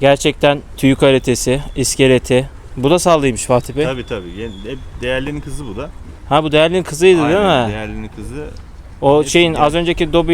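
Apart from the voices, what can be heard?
No everyday noises stand out.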